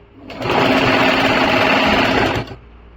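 A sewing machine stitches a kurti at a home boutique, running in one steady, loud, close whir of about two seconds that starts and stops cleanly, with no talk.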